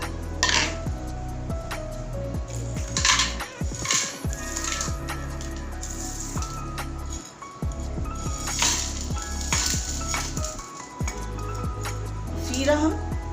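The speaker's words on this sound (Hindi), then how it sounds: "तो मैं एक पैन में डालती हूँ सारे मसाले" Whole spices for homemade garam masala poured into a metal pan for dry roasting, rattling and clattering against the pan in close, repeated scrapes and clinks under a woman's steady speech.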